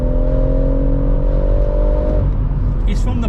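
BMW M140i induction and exhaust noise booming inside the cabin, a loud steady engine drone with a rising tone that shifts partway through, heard up close from inside the car.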